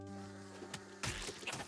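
Bees drone in the pixel-art auto battler Dwerve, a sustained, faint buzzing hum that gives way to a burst of rougher, noisier buzzing partway through.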